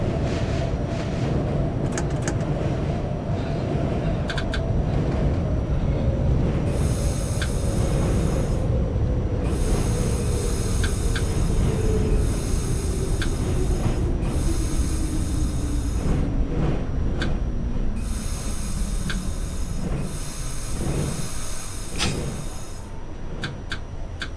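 A Manhattan-bound Q train on the Brighton Beach Line, simulated in OpenBVE, runs with a steady loud rumble as motor whine glides slowly downward, then cuts in and out in bursts of hiss near the end.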